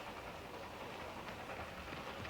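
A train rolls along the tracks in a western film, giving off a steady, even rumble with faint clatter that holds constant throughout, with no voices.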